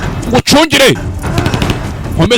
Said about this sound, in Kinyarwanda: Aba bakiraho bumva amasasu nabo.